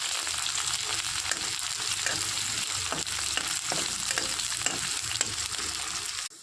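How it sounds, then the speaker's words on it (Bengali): Sliced onions with cumin seeds and dried chili fry in hot oil in a kadai, giving a steady, dense sizzle with occasional stirring scrapes, close and even throughout until it cuts off at the end. "জিরা শুকনো মরিচ দিয়ে দিই, পেঁয়াজ দিয়ে দিই, ভালো করে ভেজে দেবো।"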